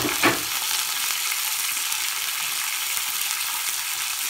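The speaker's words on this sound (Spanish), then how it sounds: "Chipirones a la plancha." Baby squid sizzle on a hot griddle with a loud, continuous hiss close by; a brief thump sounds near the start and no voices are heard.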